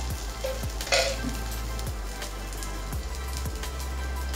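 Wheat flour vegetable dosa fries in oil on a hot pan with a steady close sizzle and crackle, broken by a few faint taps.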